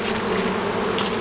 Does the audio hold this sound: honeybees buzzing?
yes